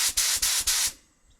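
Paint spray gun test-firing in four quick hissing bursts with short gaps, close and fairly loud, before painting a fibreglass bumper for a 1992 Nissan 300ZX twin turbo; silence follows.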